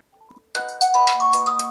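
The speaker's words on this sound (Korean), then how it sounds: "이렇게 전화가 오죠." A Blackview BL9000 rugged smartphone plays its incoming-call ringtone: a few soft tones at first, then a loud, bright melodic chime that rings on steadily, with no talking.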